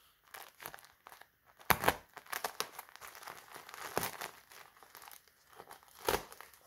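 Dry multipurpose baby wipes in crinkly plastic packaging being torn open and handled, with bursts of close crinkling and a few sharp tearing rips scattered across a quiet background.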